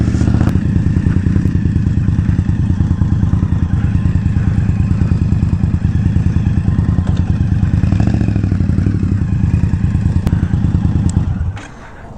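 A 2021 Indian Scout Bobber Twenty motorcycle rumbles steadily up close with a loud, continuous low engine drone, then cuts away abruptly near the end.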